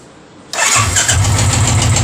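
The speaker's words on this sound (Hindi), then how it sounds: "गाड़ी सेल्फ स्टार्ट मारेंगे" A Royal Enfield 350 motorcycle engine cranks on the self-starter after a quiet moment, then catches and settles into a loud, close, throbbing idle with a steady low thump.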